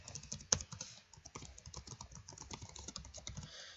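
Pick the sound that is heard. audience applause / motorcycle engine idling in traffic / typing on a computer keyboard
typing on a computer keyboard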